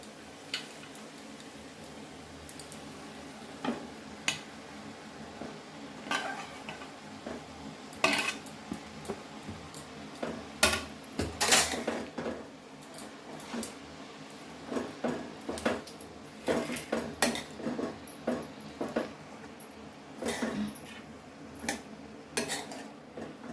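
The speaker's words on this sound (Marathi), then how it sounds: "आणि परत एकदा आपण परतून घेणार आहोत आता टाकणार आहोत कांद्याची पात" Spring onions being sautéed in oil in a pan bring irregular clinks and scrapes of a spoon against metal, scattered, sharp and close, over a faint background of cooking.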